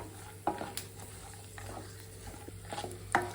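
Dry fruits and raisins fry in ghee for vermicelli payasa, a faint sizzle under a few light spoon taps and stirs against the pan, close and soft.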